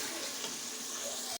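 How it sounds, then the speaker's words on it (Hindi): A glass of water poured into browned keema in a pot on a low gas flame makes a continuous rushing, sizzling hiss that holds steady and then cuts off abruptly. "हमने इसमें 1 गिलास पानी का ऐड किया है ताकि कीमा गल जाए।"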